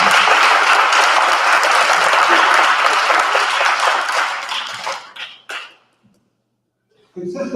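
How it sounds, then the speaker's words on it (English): Sustained audience applause at a university free speech law symposium, loud and dense for about five seconds before thinning into scattered claps and dying away to silence, then faint voices return at the end. "And I'd like us all to give another applause for her"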